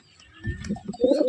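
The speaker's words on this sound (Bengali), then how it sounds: "খুব সুন্দর এক জোড়া ম্যাদ্রাজ পায়রা" A pair of Madras pigeons coo softly and close by in a short burst of low, throaty murmuring notes.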